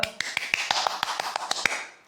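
Sharp hand claps, about a dozen crisp slaps in quick irregular succession, close and dry, alone without voices.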